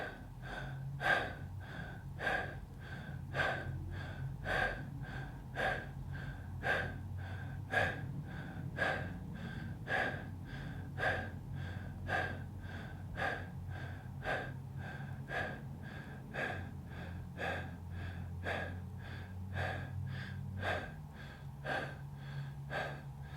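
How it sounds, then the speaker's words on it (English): Rhythmic connected breathing through the nose or mouth during a guided breathwork exercise, each sharp inhale-exhale repeating evenly about once a second, close and soft, with a low hum beneath. "we will take 25 connected breaths through the nose or mouth"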